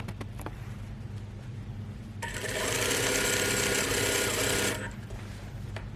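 A sewing machine runs in one steady, loud burst of about two and a half seconds, stitching the center front of a lined overgarment, with quiet room tone before and after.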